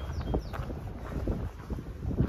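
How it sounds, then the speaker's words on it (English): Wind rushes and buffets against the microphone on the Pacific Crest Trail, a low, uneven rumble with gusts rising and falling throughout. "very windy up here."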